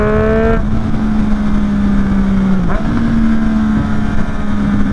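Inline-three motorcycle engine holding a steady, buzzing idle-to-mid rev close by, with a brief dip and blip in the middle before settling back to an even drone.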